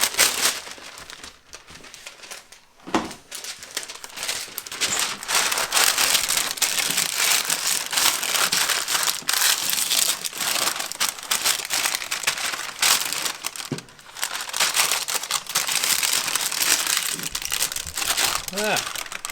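Parchment paper crinkles loudly and continuously up close while it is pressed into a baking pan, with only brief pauses. Voices talk over the rustling.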